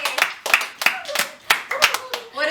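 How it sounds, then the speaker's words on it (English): A small group of students in a classroom clap after being congratulated, a handful of sharp, spaced claps close by, mixed with cheerful voices. "Well, congratulations, everyone. Round of applause"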